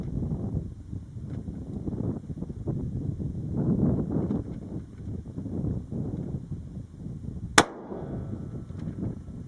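A single sharp rifle shot from a custom-built 6.5 Creedmoor rifle cracks out near the end, rising out of steady outdoor wind and rustling.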